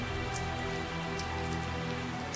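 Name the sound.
rain falling in video game Tales of Zestiria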